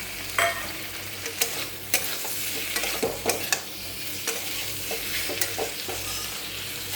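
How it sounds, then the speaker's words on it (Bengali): Pointed gourd and shrimp stir-fried in spice paste for a mustard hilsa and prawn dish, with a steady close sizzle and repeated scraping strokes of a spatula against the pan. "পটল আর চিংড়ি ভেজে রেখেছিলাম সেটা দিয়ে আমি আরেকটু কষিয়ে নেব"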